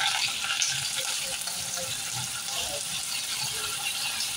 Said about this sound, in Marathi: जिरं आणि राई तडतडताच आपण त्यामध्ये घालूया कांदा आणि कांद्यासोबत आपण घालूया कढीपत्ता